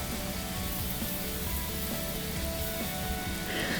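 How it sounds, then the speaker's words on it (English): Ginger garlic paste sizzles in hot oil in a pressure cooker, a loud, dense, continuous crackling hiss heard up close with no voices. "add your ginger and garlic paste and mix it for a few seconds"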